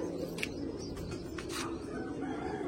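A pair of pigeons, one male and one female, coo softly in low, muffled murmurs that sit faintly under a steady background hum.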